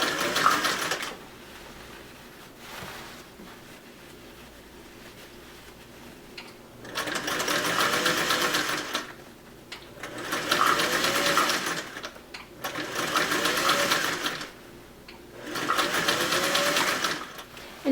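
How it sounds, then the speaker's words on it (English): A sewing machine stitches a flat felled inseam on cargo pants, running in four separate bursts of steady whirring with short quiet pauses between them, close up and with no talking. "get my needle in place on the other side of the tape and start sewing up and bunch it as I go"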